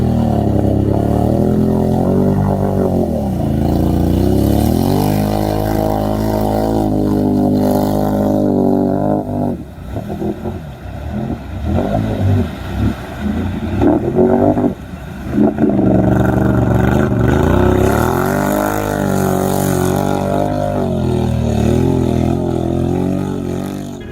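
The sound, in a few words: mega truck engines roaring in mud pit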